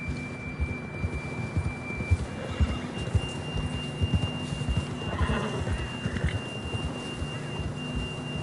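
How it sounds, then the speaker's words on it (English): Horse hooves clop steadily over a constant low rumble and a faint steady tone, with occasional snorting, fairly close, in a video game. "John was riding that horse when we left Blackwater."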